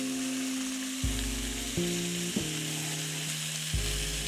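Butter sizzling in a hot pan right after a hard sear on food, a steady broadband hiss with a low hum and a few soft clunks of a pan or utensil, no talking.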